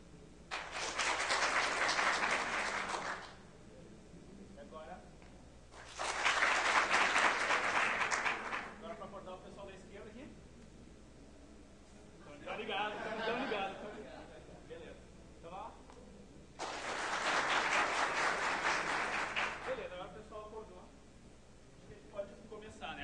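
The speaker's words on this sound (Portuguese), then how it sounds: "o pessoal daqui bate palmas" Audience members at a talk on Agile and Design Thinking clap their hands in three loud bursts of several seconds each. Between the bursts a presenter speaks to the room.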